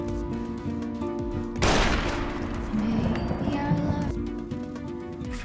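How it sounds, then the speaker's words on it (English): A gunshot in a Grey's Anatomy TV drama scene, a sudden loud blast with a noisy tail over steady background music. "Derek is shot in front of Meredith."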